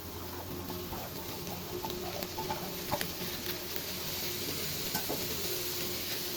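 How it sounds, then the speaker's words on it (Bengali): Spring onion greens hitting a hot pan of frying carrots for a carrot, capsicum and spring onion bhaji, giving a steady close sizzle with stirring scrapes and a few sharper clicks throughout, no talking. "গাজর ভেজে নিয়েছি, এখন পেঁয়াজ কলি দিয়ে দিব"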